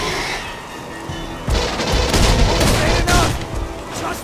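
Gunfire in the sci-fi shooter Aliens: Colonial Marines, loud sustained bursts with heavy booming impacts that intensify midway, while a voice talks over the shooting.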